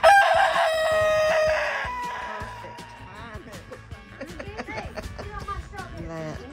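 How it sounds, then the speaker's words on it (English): A big rooster crows loudly at the start with a long cock-a-doodle-doo, followed by softer clucking from chickens in a farmyard while people chatter in the background. "Look at that big rooster there."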